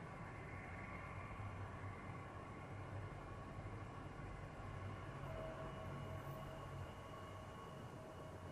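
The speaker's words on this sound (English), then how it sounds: "Train's moving. Better get on it." A train in the Apex Legends winter express mode rumbles steadily along the rails, a continuous loud rolling drone with no talking.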